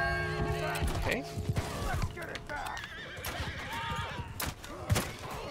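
Horses neigh and whinny repeatedly during a multiplayer siege battle in Mount and Blade II: Bannerlord, with hooves clopping and combat thuds over a busy mix of game sound and shouting.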